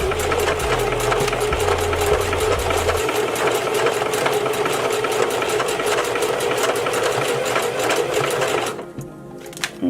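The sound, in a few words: sewing machine sewing weft hair tracks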